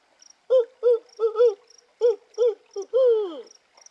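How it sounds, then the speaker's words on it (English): An owl hoots in trees at night by a river, giving a close, clear series of about eight short hoots with a longer falling call at the end, while faint insect chirps sound high in the background. "The owl is just down here somewhere in the trees."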